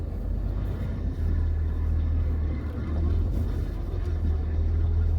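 A diesel truck with a dual-disc clutch on a test drive gives a steady, low engine drone and road rumble throughout, heard from inside the cab, with no clear breaks.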